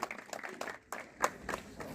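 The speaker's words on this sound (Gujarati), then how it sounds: "આપણે આ કિંમતી ક્ષણને તાળીઓના ગડગડાટથી વધાવી લેશું" Audience clapping at an Innovation Festival shield award ceremony in Khambhaliya, a short burst of scattered applause from a moderately distant crowd with uneven hand claps.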